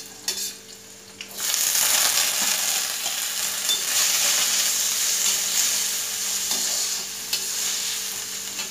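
Small diced potato pieces drop into a hot pan for sabudana khichdi and fry with a steady, loud sizzle, joined by occasional stirring scrapes; a brief quieter start gives way to continuous frying.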